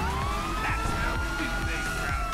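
An ambulance siren in the video game GTA 5 wails continuously with rising and falling tones, fairly loud and steady, over the hum of traffic in the game.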